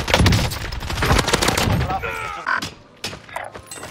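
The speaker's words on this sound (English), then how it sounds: "I'm taking fire." Dense incoming gunfire in a shooter video game, with rapid overlapping cracks and thuds that thin out toward the end, heard close and loud under a voice talking.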